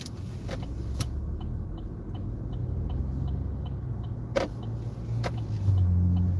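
Cars move through city traffic, heard as a steady low road-and-engine rumble from inside a vehicle, with a few sharp clicks and a heavier passing rumble toward the end.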